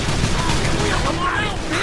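Gunfire in the Call of Juarez: The Cartel video game, a dense, continuous burst of shots with voices mixed in over a short stretch.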